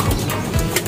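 A prized racing pigeon coos briefly at close range, a couple of soft low throaty pulses with light rustling, no talk.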